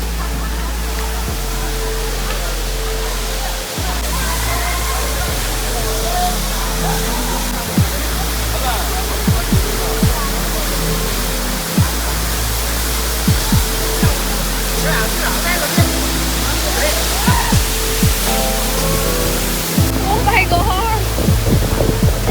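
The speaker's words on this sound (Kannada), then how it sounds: "ಹೌದಾ ನೀರು ಸಿಡಾತೈತಿ" Water of Baba Waterfalls in monsoon pours in a steady, loud, broadband rush that fills the whole clip, with faint voices and low rumbling bumps underneath.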